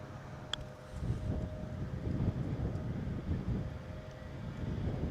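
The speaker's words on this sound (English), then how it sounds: "It is like properly windy." Strong gusts buffet the microphone on an open golf course, a low, rumbling wind roar that swells and eases steadily without any talk.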